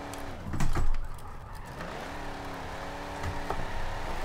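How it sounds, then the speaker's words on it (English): A race car in Forza 7 driven on a wheel sim rig revs and whines through a handbrake turn, engine pitch dipping then climbing again, with a brief tire scrub and a loud burst near the start. "Handbrake turn there."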